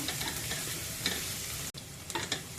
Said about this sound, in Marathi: हे सर्व आपल्याला गुलाबी रंग येईपर्यंत परतून घ्यायचं आहे